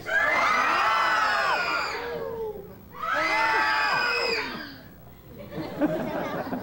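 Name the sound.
audience screaming in panic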